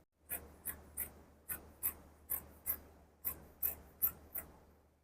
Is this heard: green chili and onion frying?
no